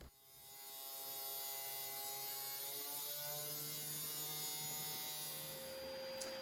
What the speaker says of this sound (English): The auto feed pulls the stock through at 8 meters per minute